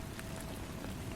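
Steady rain falls in a soft, continuous hiss with scattered faint drop patter, quiet and even throughout with no voices.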